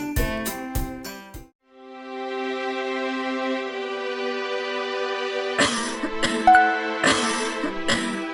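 A quick run of four or five sharp coughs opens, then a long held tone takes over before several more close, loud coughs burst out near the end.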